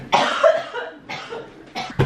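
Three harsh coughs from one person, close by, the first long and raspy, then two shorter bursts with pauses between.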